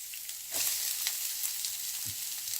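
Finely chopped onions hitting hot oil and sizzling, a steady bright hiss with a few soft stirring scrapes, close up and without voices.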